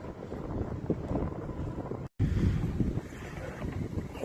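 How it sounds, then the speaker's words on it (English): Gusting wind buffets the microphone in a steady broadband rush at a logging site in a subdivision, with a brief dropout midway and no talk. "It's early and the wind's already starting to get up."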